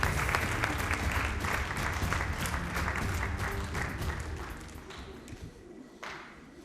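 An audience claps loudly and steadily, the applause thinning out and fading over several seconds.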